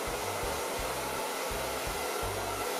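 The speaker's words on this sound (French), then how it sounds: "Je vais aller prendre mon sèche-cheveux." A handheld hair dryer runs close and loud with a steady, continuous whoosh. It is used while redoing a living room, and some low thumps pulse underneath. No one speaks.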